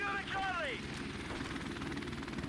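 A helicopter in a first-person shooter video game whirs with a steady rotor drone, while a short rising tonal game sound plays early on and background noise continues throughout.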